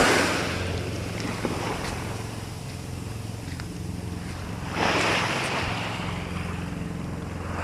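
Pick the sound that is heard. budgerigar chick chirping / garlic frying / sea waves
sea waves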